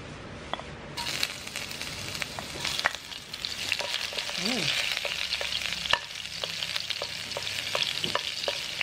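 Garlic and ginger sautéing in a little hot cooking oil for a Filipino pinakbet, a steady close sizzle with scattered clinks and scrapes of a utensil stirring in the pan.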